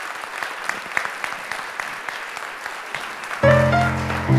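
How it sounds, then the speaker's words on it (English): Studio audience applause for a televised opera show, steady dense clapping that fills the room for about three seconds before musical tones enter over it near the end. "Big round of applause, ladies and gentlemen."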